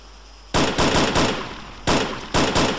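Bursts of video-game gunfire crack out in quick clusters, a rapid string of close, loud shots followed by two shorter volleys after a pause.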